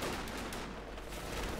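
MG34 machine gun fire in the video game Company of Heroes 2, a faint continuous rattle of bursts with other battle noise in the background.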